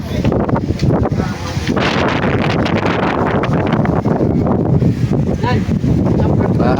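Strong, steady wind roars across the microphone with constant buffeting, loud throughout, with faint voices and outdoor noise buried underneath.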